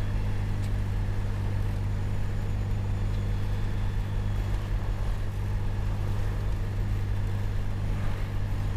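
A light aircraft's piston engine runs warm at the airfield after a return flight to Perpignan, giving a loud, steady low drone with a constant hum and no break.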